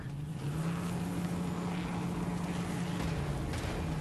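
A vehicle engine in Borderlands 3 holds a steady, loud drone with a nitrous boost, running continuously without any pause or change in pitch.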